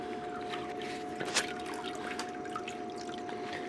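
Water trickles and drips steadily through a gold prospecting pan setup, a faint continuous flow with a few brief splashes and a steady tonal hum underneath.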